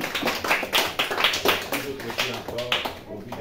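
A church congregation claps for the Lord Jesus in quick, uneven rhythmic bursts, loud and close, with voices mixed in among the applause.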